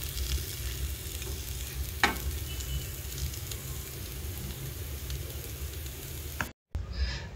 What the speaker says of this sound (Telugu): ఫైవ్ మినిట్స్ తర్వాత చూసారా ఎగ్స్ ఆనియన్స్లో ఎలా ఫ్రై అయిపోయాయో